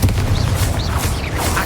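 Blasting spell explosion from the Hogwarts Legacy video game, a dense booming rumble that fills the whole stretch, loud and continuous with a few faint whooshing sweeps above.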